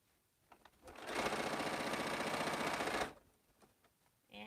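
A sewing machine stitches quilt block seams, a close, fast, steady mechanical whirr that runs for about two seconds. Quieter handling taps come before and after it.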